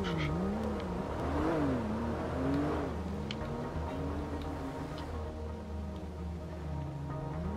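A car in GTA Online drives somewhere nearby, its engine a quiet, steady hum with rising and falling revs and faint ticking, heard alone without talk.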